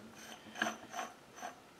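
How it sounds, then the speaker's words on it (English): A set screw on a South Bend 13-inch lathe crossfeed gear is worked loose, giving three soft, close ratcheting clicks spaced about half a second apart. "removing this set screw right here on the crossfeed gear"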